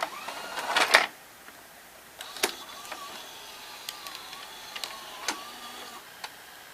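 A Toshiba M-447 VCR takes in a tape and starts playing it: a few sharp mechanical clicks and clunks, then a faint whirring hum of motors with occasional light ticks, close by and without voices.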